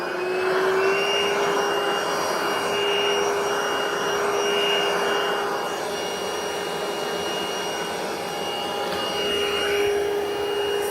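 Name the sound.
Vax cordless vacuum cleaner with power head hoovering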